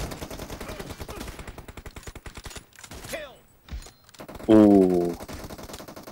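Gunfire in PUBG Mobile crackles in rapid bursts, a close machine-gun rattle followed by a dense loud volley, with a voice exclaiming briefly over it.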